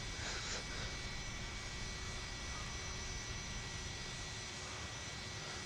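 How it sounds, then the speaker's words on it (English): MD-80 jet engines in a flight simulator airliner cockpit, a steady broadband whine and rumble holding level throughout as the engines run down after landing at Tampa. "Brakes set. Engines now off."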